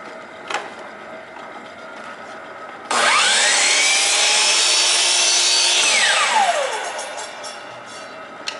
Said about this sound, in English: Crosscut compound miter radial arm chop saw with lasers.